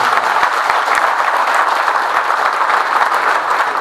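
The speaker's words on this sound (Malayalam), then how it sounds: "എല്ലാവർക്കും നിറഞ്ഞ കയ്യടിയോടുകൂടി" A crowd at a BJP party event breaks into loud, sustained applause, dense clapping that holds steady throughout at close range.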